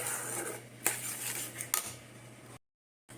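Raw mango pulp being stirred in a metal pan over a gas flame while making aamsatta, with a steady scraping clatter and two sharper utensil knocks against the pan, then a brief silence.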